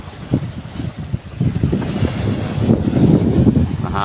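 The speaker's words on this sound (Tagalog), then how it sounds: "Mahangin." Wind blows hard at sea around a small outrigger boat carrying fishing nets, buffeting the microphone with loud, low rumbling gusts that build and stay strong throughout.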